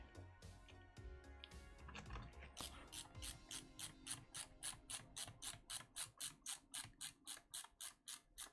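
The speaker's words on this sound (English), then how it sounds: "Just screwing away." Screws being driven into a 3D printed Nerf blaster, a steady run of evenly spaced ratcheting clicks from a close-up screwdriver that grows louder and more regular, with faint background noise before it.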